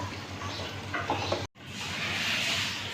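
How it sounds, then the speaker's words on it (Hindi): Mutton karahi with yogurt frying and being stirred in a pan, a steady close sizzle with scraping stir strokes, a brief cut near the midpoint, then a continuous loud hiss of frying. "दही डालकर खूब अच्छी तरह से भून लेंगे"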